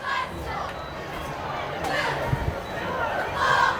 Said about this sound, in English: you can hear them cheering after each play that goes their way